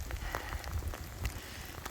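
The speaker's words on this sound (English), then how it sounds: "Caught in the rain." Rain falling outdoors on a walk near a creek, a steady patter of drops close by with scattered louder splashes over a broad hiss.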